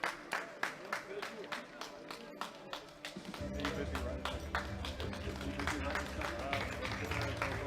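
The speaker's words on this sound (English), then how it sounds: "Let's give these gentlemen a round of applause with music, please, as they leave the platform." Audience at a world classic powerlifting championship claps sharply at first. Loud rhythmic music then swells in, and the applause continues steadily underneath it.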